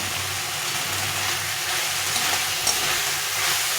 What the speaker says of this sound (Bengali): এই আলুটা সবটা দিয়ে দেবো দিয়ে এটাকে ভালো করে একটু কষিয়ে নেব